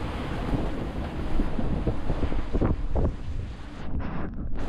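Strong wind gusts roar across a sailboat at sea in 25 to 30 knots, a continuous loud buffeting rush with surges and microphone wind noise, and no voices.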